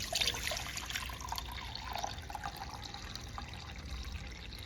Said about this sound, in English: So I'm going to fill up the water.